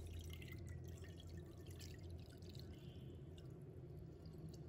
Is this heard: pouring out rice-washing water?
yes